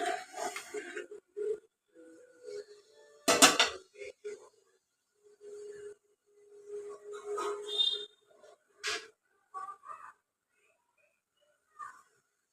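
A pot holding one kilo of milk for bread custard is set down on a home stove with a single metallic clank, then a lighter knock later, amid steady talking.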